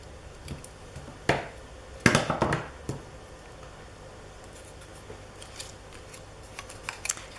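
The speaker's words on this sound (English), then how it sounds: "I'm gonna have to cut a little bit more off here" Scissors snip through paper scraps for pink handmade embellishments, a few crisp close cuts with a quick cluster of snips, then quiet rustling in a calm room.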